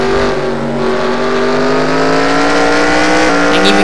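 Race cars in a video game roar continuously at close range, their engines holding steady tones with small shifts in pitch, loud throughout and without speech.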